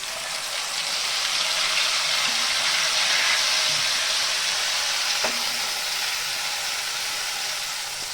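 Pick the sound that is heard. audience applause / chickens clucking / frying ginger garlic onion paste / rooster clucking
frying ginger garlic onion paste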